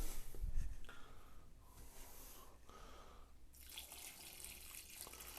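Water is poured into a box of drywall texture mix for skip-trowel ceiling texture, making a soft steady splashing and trickling close by at low volume, with a brief bump at the start and no talking.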